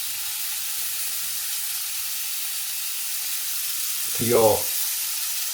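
Marinated Moroccan lamb steaks fry in a pan with a steady, close sizzle and hiss that runs throughout, briefly overlaid by a short burst of speech near the end.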